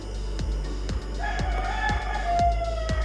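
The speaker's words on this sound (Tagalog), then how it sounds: "Oh, there's a rooster." A rooster crows in the Roblox game Fish It, its drawn-out call rising over a steady, thumping low beat that repeats through the short stretch, with no voices.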